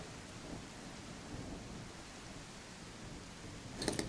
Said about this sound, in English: Makes you kind of wonder if the rain will ever end.